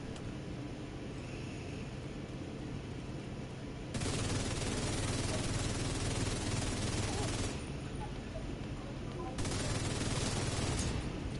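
Sustained rapid automatic gunfire in The Division 2, a very high fire-rate weapon firing in two long bursts at a fast, continuous rhythm, loud and close against a steady background of game ambience.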